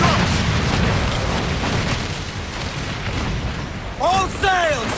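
Cannon fire and exploding mines roar through a naval battle in Assassin's Creed Black Flag, a dense continuous rumble of booms, with a voice breaking in near the end.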